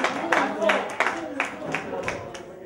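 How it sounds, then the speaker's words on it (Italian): Scattered applause from an audience at a sports team presentation, sharp claps rising and falling in uneven bursts, with voices talking over them. "un applauso a Filippo"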